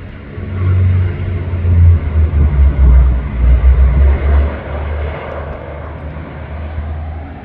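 A fixed-wing airliner lands at Canberra International Airport. Its engines give a steady, loud low rumble that swells and wavers as the plane rolls down the runway nearby, then slowly eases off. Nobody speaks.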